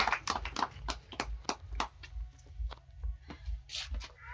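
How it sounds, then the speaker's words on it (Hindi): An audience claps to welcome a speaker at a meeting, a short burst of scattered hand claps that fades into a few sparse claps, with some faint voices underneath. "तो एक बार ज़ोरदार ताली के साथ वेलकम करते हैं छाया जी।"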